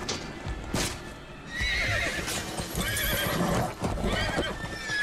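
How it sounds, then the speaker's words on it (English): Horses in The Walking Dead Season 9 Episode 6 neighing and whinnying loudly while hooves clip-clop, a long shrill whinny rising over steady hoofbeats and rustling movement, heard clearly for several seconds. "Horses."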